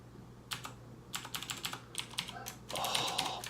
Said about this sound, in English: yeah, now that's a keyboard